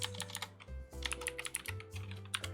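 Rapid clicking of computer keyboard typing fills the clip, a near, steady run of keystrokes with brief pauses, heard alone without talk.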